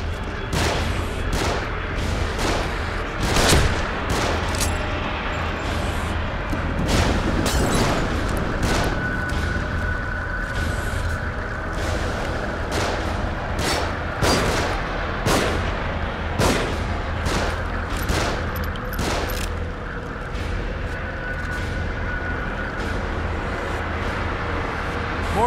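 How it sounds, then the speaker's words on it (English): In The Evil Within, enemies fire down from above, sending loud, sharp gunshots in irregular bursts over a steady low rumble, with some heavier booms scattered among them. "They're shooting from above."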